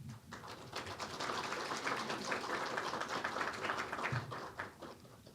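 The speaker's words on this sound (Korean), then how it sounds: "큰 박수로 환영해 주시길 바랍니다" An audience at a Korea Gas Corporation energy forum breaks into steady applause to welcome an introduced guest, a sustained wash of many hands clapping throughout.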